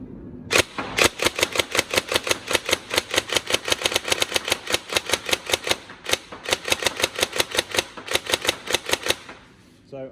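A Tokyo Marui 417 DMR next-gen electric airsoft rifle fires BBs in rapid, even snaps, a long close-up string with brief pauses near one and six seconds, loud and alone.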